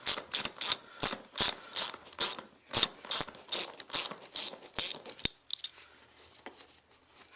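A ratchet with an Allen bit backs out pre-installed racing seat hardware, clicking in a quick, even series of sharp strokes up close, then slowing to a few scattered clicks before stopping.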